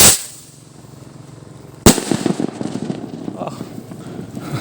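A homemade kwitis firework rocket from Zamboanga bursts with one sharp loud bang after a quieter stretch, then crackling and rumbling debris follows amid background voices.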